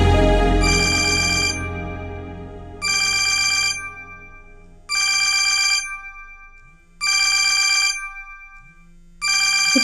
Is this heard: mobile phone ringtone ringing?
yes